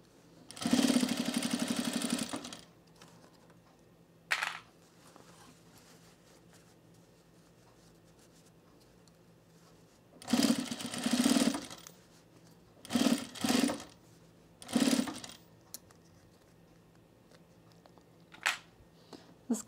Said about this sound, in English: now I'm just edge stitching the edge of the cuff